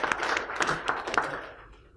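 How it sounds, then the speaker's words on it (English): A small group claps briefly, a handful of close, quick hand claps in an irregular rhythm that fade out after a second and a half. "that's worthy of a clap"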